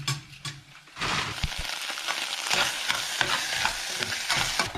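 Frozen vegetables hit a hot pan for a nasi goreng meal and set off a steady, loud sizzle of frying, with stirring scrapes over it, close by and with no talk.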